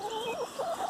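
A Padovana hen clucks close by, a short run of warbling, rising and falling calls, fairly faint and heard alone.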